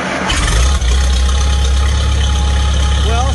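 Farmall Super C tractor engine catching and settling into a steady, loud idle after an in-line fuel filter repair, close up, with a rough low rumble throughout.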